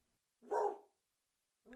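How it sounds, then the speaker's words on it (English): A dog gives one loud, close bark followed by a short pause and the start of another bark, with near silence around them. "barking with excitement."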